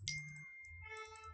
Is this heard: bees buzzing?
no